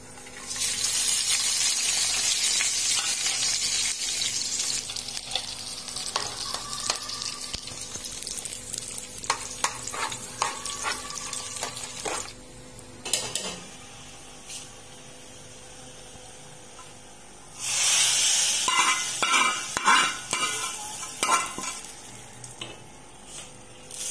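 A tempering of garlic, cumin, curry leaves and round chillies sizzles loudly in hot oil, with stirring and clinks in between, fading to quieter frying before a second bright burst of sizzling.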